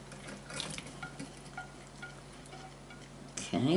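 Coated beef pieces with crumbly bits being stirred into a hot pan for a budget beef stroganoff-style goulash, giving a quiet scrape and soft sizzle that ends in a louder burst of frying.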